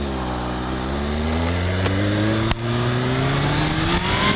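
A motorcycle engine revs hard from a start and climbs steadily in pitch as it pulls away, loud and close, with no voices.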